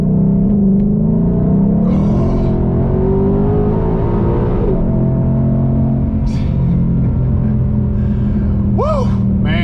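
A 2020 Shelby GT500 Mustang engine revs and rumbles loudly and up close, its deep note swelling and easing across the whole stretch, with a voice briefly rising over it near the end.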